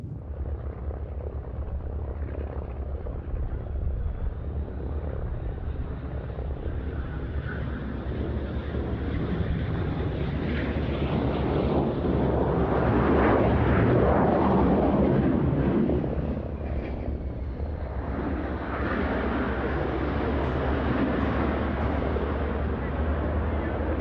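Fighter jet flying at a Scottish airshow, a steady loud roar that swells as the aircraft passes and then eases, heard against wind buffeting on the microphone with talk mixed in.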